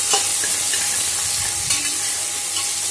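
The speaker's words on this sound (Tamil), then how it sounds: "ஒரு கை அளவுக்கு ரவுண்ட் ரவுண்டாக கட் பண்ணி ஆட் பண்ணியிருக்கேன்" Round-sliced shallots and garlic fry in a pan with a loud, steady close sizzle and a few soft stirring sounds. No one speaks.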